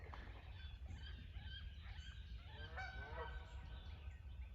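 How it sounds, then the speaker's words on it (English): Ducks call in the distance with honking, goose-like cries, faint and scattered over a steady low rumble. "I don't know what kind of ducks they are, but they don't quack, as you just heard."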